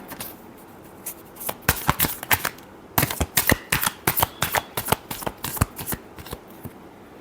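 Tarot cards being shuffled by hand in a rapid run of crisp riffling snaps and flicks, loud and close, with no talking.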